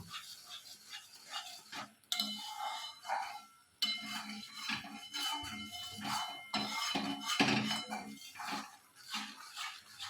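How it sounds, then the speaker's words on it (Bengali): Spice mix being sautéed and stirred in a pan for Mughlai paratha filling, with scraping, clinking utensil hits and soft sizzle in uneven bursts, close and moderately loud, no talking. "এবার এই মশলাটা দিয়ে ভালো করে কষিয়ে নেব"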